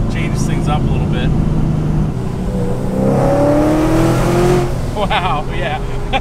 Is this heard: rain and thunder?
no